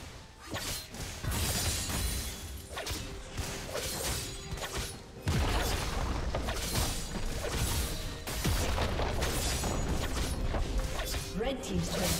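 Turret destruction in a League of Legends match, a loud crumbling shatter and crash with whooshing game effects and a continuous dense mix of game sound, with an announcer voice over it.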